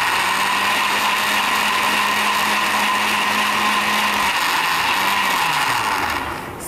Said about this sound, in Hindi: इसको मैं अच्छा सा ब्लेंड कर लूँगी।